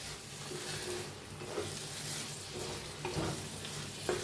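A cooked ridge gourd vegetable is stirred in a pan, giving soft scraping and gentle sizzling at close range, with a few light clinks of the spoon against the pan and no talk.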